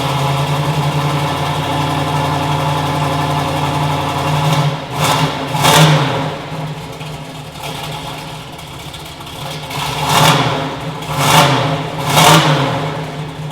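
A 1969 Chevrolet Camaro SS396 L89 V8 idles with a deep lumpy rumble, then it is revved hard several times, first in a quick double blip and later in a series of three sharp throttle surges, close and loud.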